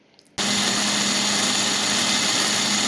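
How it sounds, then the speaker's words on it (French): A kitchen blender switches on abruptly after a brief quiet moment and runs at a steady, loud, high-pitched whir, blending chopped tomatoes and onions into a purée for a peanut sauce. "j'ai coupé mes tomates et oignons que j'ai mis dans mon mixeur"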